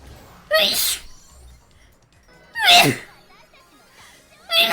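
Three sharp, loud sneezes from a nearby person at a gaming session, evenly spaced, each a sudden explosive burst with quiet between, the last one cut off at the end.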